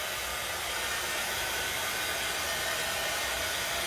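A hair dryer blows steadily on painted wood craft sticks for a pumpkin craft, a continuous close, loud whooshing hiss with no pauses and no talk.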